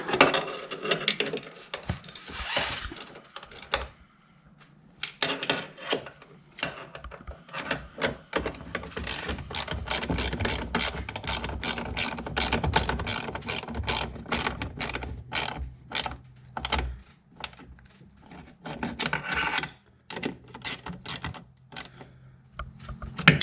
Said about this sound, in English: Tighten the two nuts in the bolt.